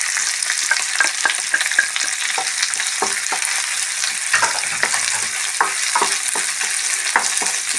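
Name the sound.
onions, shallots and fennel frying in a pan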